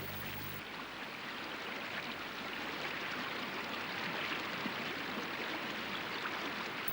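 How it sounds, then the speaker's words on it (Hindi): River water of the Ganges flows in a continuous, even rush, a steady broadband wash like a stream with no voices over it. "ये परम पावनी सर्व पापनाशिनी गंगा हैं"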